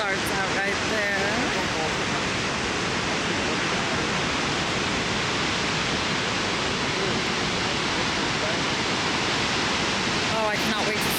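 Shoshone Falls waterfall, a loud, steady broadband rush of falling water heard close and continuous, with faint voices briefly at the start and end.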